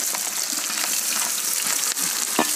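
Onions sautéing in a pan for an Indian-style turkey curry, giving a loud, dense, steady hiss of frying close by, with a faint stir or clink near the end and no talk.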